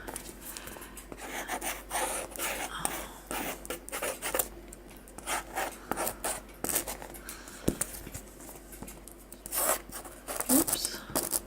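Repeated cuts from cheap kitchen scissors trimming paper edges and paper rustling come in short irregular bursts up close, with occasional handling noise between snips.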